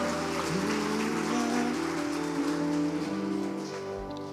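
A church congregation applauding during a Portuguese-language sermon, a broad continuous patter of many hands under a faint sustained musical tone, easing off toward the end.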